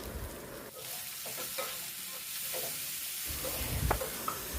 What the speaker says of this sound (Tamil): பொடிசாக வெட்டின புடலங்காவை சேர்த்துட்டு தேவையான அளவுக்கு உப்பும் சேர்த்து நல்லா கலந்துட்டு